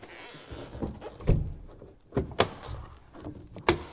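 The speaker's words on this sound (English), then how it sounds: "The other side also has bifold doors" Bifold storage doors on a 2025 Yar Craft 210TFX SP fishing boat are worked by hand, giving a few separate thunks and clacks. There is one soft early knock, then a sharper pair of bangs, then a final close snap. No one speaks.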